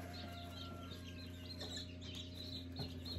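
Newborn chicks in a brooder box give soft, high peeps and cheeps that overlap in a steady, quiet chatter over a low hum.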